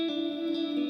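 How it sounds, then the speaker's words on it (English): A Burns Marquee electric guitar plays through a Hall of Fame reverb pedal into a Dark Star pedal, giving a sustained chord with a bright, washy, shimmering tail, held steady and fairly loud for under a second. "Hall of Fame reverb into Dark Star."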